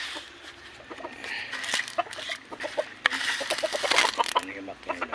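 Backyard chickens cluck close by in a rapid, uneven series of short calls that swell louder toward the end, with a voice talking in between.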